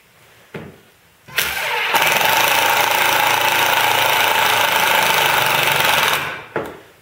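A worn-out impact driver hammers screws tight while building a woodworking vise, one sustained loud rattling burst of about five seconds, with brief bumps and clicks just before and after.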